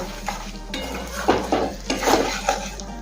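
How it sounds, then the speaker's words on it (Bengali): Fried potato pieces are stirred into spice masala in a pan for a Bengali rohu fish curry, with a metal spoon scraping and clinking against the pan in short bursts over a faint sizzle and a low steady hum. "এখন দেবো আগে থেকে ভেজে রাখা আলুর টুকরোগুলো মশলার সাথে মিশিয়ে নেব।"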